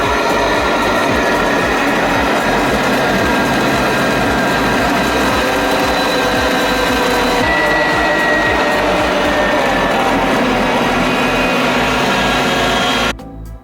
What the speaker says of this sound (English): Add the lid, and then blend.